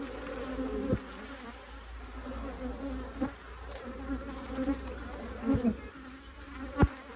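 A soft, steady drone of honeybees buzzes around an open beehive frame, with occasional louder passes as single bees fly close to the microphone, and faint handling knocks.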